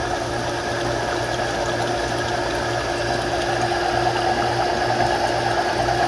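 An Everbilt 3/4 HP shallow well jet pump of polymer construction runs steadily, giving a continuous loud motor hum with a faint rattle and watery rush and no talking.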